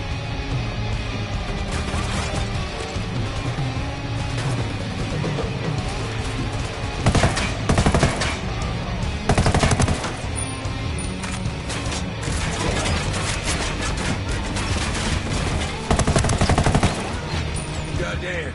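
Gunfire in the Ghost Recon Wildlands video game: loud, sharp bursts and volleys of shots crack over a continuous din of combat noise, with several heavier blasts standing out.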